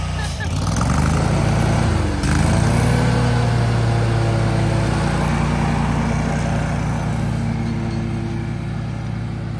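A Bad Boy Revolt 31h mower with a Kawasaki EFI engine running close and loud, a steady droning hum that holds throughout with a brief shift in pitch near the start.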